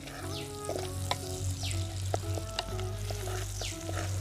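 White onions sizzle in a pan for a village-style quail gravy with mangoes. The frying hiss is continuous and close, with occasional clinks from stirring and no talking.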